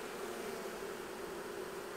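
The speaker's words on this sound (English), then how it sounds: "there's a lot of bees in here" A steady, soft drone of honey bees buzzing in a small hive, continuous and even throughout.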